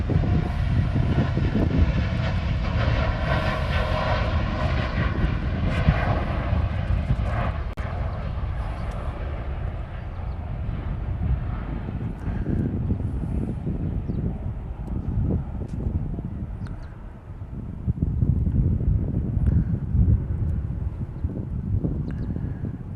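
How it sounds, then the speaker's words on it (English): A Qantas Boeing Dreamliner departing for Sydney from Honolulu roars loudly at first, its jet rumble slowly fading into the distance amid wind noise. "that was Qantas flight something heading off to Sydney."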